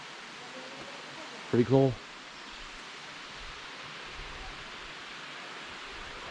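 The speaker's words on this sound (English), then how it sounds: "Yep, water come down the stream." Water rushing down a stream channel at Freedom Falls near the Rockland Furnace, a steady broad roar throughout, with a person speaking briefly over it.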